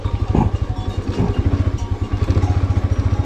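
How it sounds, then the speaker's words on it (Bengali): Motorcycle ridden on a mountain road in Mustang, Nepal, its engine chugging in a fast, steady rhythmic pulse close by, loud and continuous. "তবে পায়ে হেঁটে না, বাইকে চেপে।"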